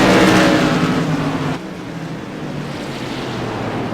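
Tour modified race cars circling Martinsville Speedway, a loud engine roar passing close in the first second and a half, then dropping to a steadier, more distant drone of cars running on the short track.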